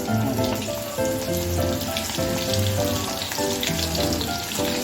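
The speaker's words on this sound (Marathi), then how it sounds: "कढईमध्ये मी तेल तापत ठेवले त्याच्यामध्ये मी हे थोडे थोडे चणे असे सुटे सुटे करून" Chickpeas frying in hot oil in a kadai give a dense, steady sizzle and crackle that stays loud and close throughout, with no voices over it.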